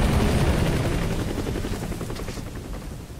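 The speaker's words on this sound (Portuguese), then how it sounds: "helicóptero ali em cima" A helicopter in a mobile video game thuds overhead with a loud, rapid rotor chop over a broad engine roar that slowly fades as it passes, with no talk.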